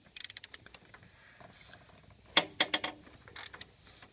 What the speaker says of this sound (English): a Duralast ratchet to get the bolts out